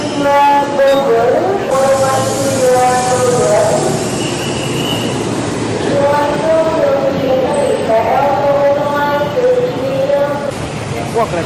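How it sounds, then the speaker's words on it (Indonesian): A new commuter train on the Bogor line in Indonesia passes close by with a loud, steady rumble and whining tones lasting the whole stretch, with people talking over it. "Wah, kereta baru ya."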